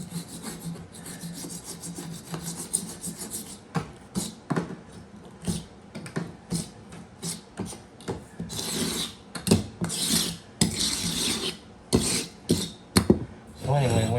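A hand scraper works over an 80-plus-year-old hardwood floor in rasping strokes with an irregular rhythm. The strokes grow louder and more forceful toward the end, and faint talk can be heard in places.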